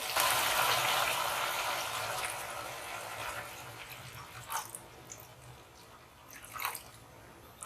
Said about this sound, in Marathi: आता आपण यात अजून पाणी घालणार आहोत